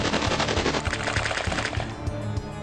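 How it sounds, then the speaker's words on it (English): Tank guns firing in the video game Epic Battle Fantasy 4: a loud, rapid rattle of automatic shots in quick regular bursts, close and continuous with no talk over it. "Tank guns, because why not?"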